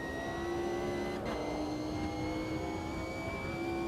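Racing car engine in a sim racing game, a steady droning whine with sustained harmonic tones that dip briefly and climb again, continuous and fairly close with no talk over it.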